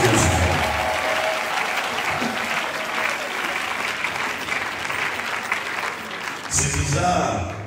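Sustained, dense applause from a large crowd at a pastor's funeral viewing, honouring his two children, loud and continuous for several seconds before a voice cuts in near the end.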